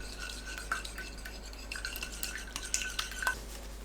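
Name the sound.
beating eggs on a wide plate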